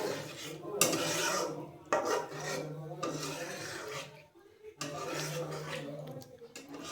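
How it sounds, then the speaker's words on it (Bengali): Paneer is stirred and mixed in a pan for palak paneer, with repeated rasping scrapes of a utensil against the metal in uneven strokes and brief pauses, close and moderately loud, with a faint voice underneath. "পনিরটাকে এখন মিক্স করে নেব"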